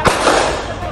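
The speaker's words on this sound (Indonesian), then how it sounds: "Suara tembakan memecah keheningan malam di res area kilometer 45 ruas tol Tangerang Merak." A single sharp gunshot rings out at night at a highway rest area on the Tangerang–Merak toll road, a loud abrupt crack near the start followed by a lingering noisy echo.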